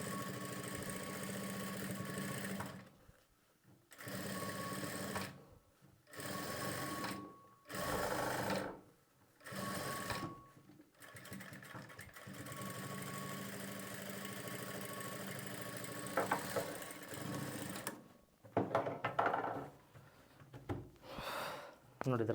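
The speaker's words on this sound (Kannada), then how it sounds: "ಪೈಪಿಂಗ್ ಪಕ್ಕದಲ್ಲಿ ಮೇನ್ ಫ್ಯಾಬ್ರಿಕ್ಕಿಗೆ ಒಂದು ಹೊಲಿಗೆನ ಹಾಕ್ಕೊಳ್ಬೇಕು" A sewing machine runs in repeated bursts of steady whirring with short pauses between, stitching piping onto the main fabric of a blouse back neck; close and fairly loud, with no voices over it.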